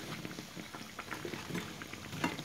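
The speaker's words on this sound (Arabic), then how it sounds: "نكونوا كنرشوا الزيت وهما كيطيبوا هكا كيتحمروا مزيان من الجهتين" Fritters made from egg and yogurt batter frying in hot oil while oil is spooned over them, a soft steady bubbling and crackle close by, quiet and continuous with no talk.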